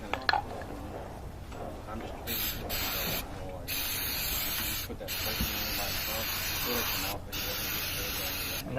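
Brake cleaner sprays in a steady, loud hiss onto a K12 saw part, running almost continuously with a few brief pauses between bursts.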